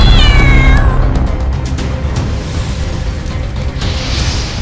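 A cat gives a loud, drawn-out meow at the start that fades into a rumbling, noisy background with a few sharp thumps and a brief hiss near the end.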